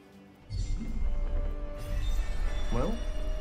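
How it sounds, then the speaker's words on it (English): A cat lets out a brief meow in the video game Forspoken, partly buried under steady game ambience and low rumble. "Cat."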